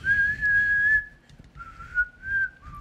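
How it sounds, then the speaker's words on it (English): A person whistles a tune, the A-Team theme, in sustained clear notes: one long held phrase followed by several shorter pitched notes, close and alone without talk. "That's a horrible whistle"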